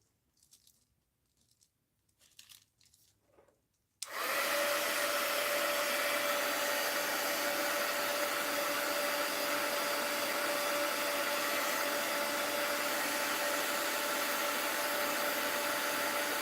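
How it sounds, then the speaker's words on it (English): Faint handling noises give way to a heat gun switching on abruptly and blowing a steady, loud hiss with a constant whine, aimed at plastic shapes and running unbroken to the end. "And you want to keep your heat gun about 4 inches away, maybe 3 inches."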